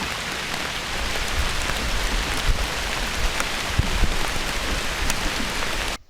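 Heavy hail pelts a forest in a dense, steady hiss of impacts with scattered louder knocks, continuous and close for about six seconds before cutting off abruptly.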